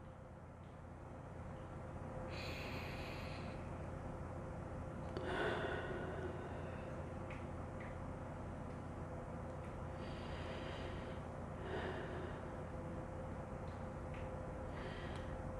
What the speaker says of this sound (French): Prenez une respiration avec moi.